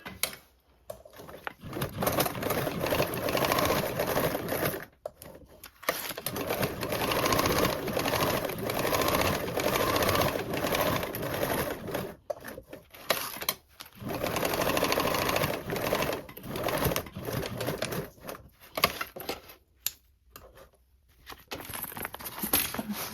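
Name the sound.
sewing machine basting a toiletry bag seam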